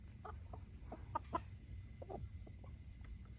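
A chicken named Feathers clucks in short, separate bursts near the microphone, several calls over a steady low outdoor rumble with no talking.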